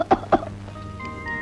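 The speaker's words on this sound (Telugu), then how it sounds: "ఏమిటి మళ్ళీ దగ్గుట?" Someone in a Telugu film scene coughs twice in quick succession, close and sharp, followed by a quiet room tone.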